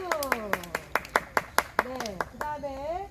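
A small audience claps at a children's ecological theatre performance in a small library, a dozen or so sharp, evenly spaced claps mixed with children's voices and chatter throughout.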